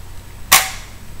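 An M4-style pump-action toy gun fires once, a single sharp snapping crack close by, standing alone against a quiet room background.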